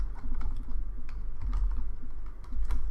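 Typing on a computer keyboard: a steady run of close, quick key clicks with uneven rhythm, heard alone without speech.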